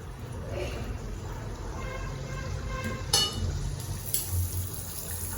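Adhirasam, a sweet rice-flour fritter, fries in oil over a low flame with a steady, even sizzle that runs the whole time, and a couple of sharper crackles rise near the middle.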